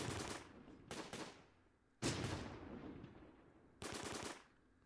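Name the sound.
Sherman tank firing at Panzer, video game Close Combat: Gateway to Caen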